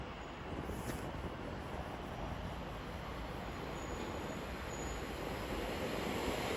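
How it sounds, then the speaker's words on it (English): An Elizabeth Line train pulls out of Stratford station on a Heathrow Terminal 5 to Shenfield service, giving a steady, close rumble of wheels and motors with a faint high squeal, continuous with no talk. "Now departing is C1712, Elizabeth Line service from Heathrow Terminal 5 to Shenfield."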